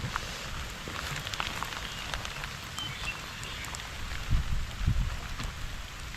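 Heavy rain pours steadily during a storm in rural Thailand, a dense constant hiss of drops on surfaces with a couple of louder low thumps near the end, no voices.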